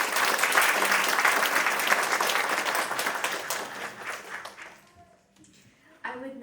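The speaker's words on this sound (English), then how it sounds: "Please give her another round of applause." Enthusiastic applause from an audience after a classical dance performance with live orchestra, dense clapping that tapers off and fades into near silence before a voice begins at the end.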